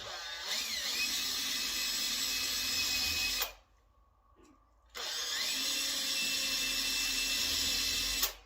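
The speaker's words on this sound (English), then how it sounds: "what I'll do is I'll pre-drill it" A power drill pre-drills a screw hole for a door hinge while hanging a door, two sustained high whining runs through wood separated by a short silent pause, close and loud.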